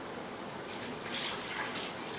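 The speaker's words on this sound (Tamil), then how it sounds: "இப்போ மட்டன் வேகிறதுக்கு தேவையான அளவுக்கு தண்ணி சேர்த்துடலாம்." Water is poured into a pot of mutton curry made with drumstick, Thanjavur style, giving a soft, steady gushing hiss that swells slightly midway through the short pour, with no talk.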